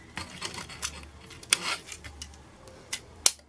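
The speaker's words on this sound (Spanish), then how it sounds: "Hizo clic." Quiet, sharp plastic clicks as parts of a Transformers Power of the Primes Optimus Prime toy click into place, a few small snaps and a couple of crisp louder clicks, with light handling noise between them.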